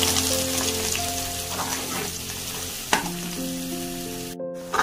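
Ginger, garlic, green chilli and coriander paste sautéing in a pan, a steady sizzle with spoon stirs and a sharp clack near the middle, soft music-like tones running underneath.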